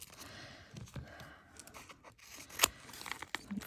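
Scissors cutting a strip of copper tape, quiet close snips and crinkly rustles with one sharp louder crack partway through, no talking.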